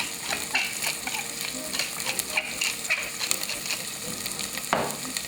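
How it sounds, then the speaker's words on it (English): Vegetables sizzling in a hot pan for a roasted garlic teriyaki chicken dish, a crackling, hissing fry with stirring scrapes and a sharper burst near the end. "A nice sizzle right when you throw the vegetables down."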